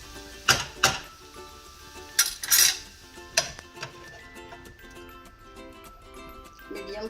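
A metal lid set onto a pan of poha cooking on a slow flame, giving a few light clinking taps and a brief rattle against background kitchen ticking, fairly close and moderately loud.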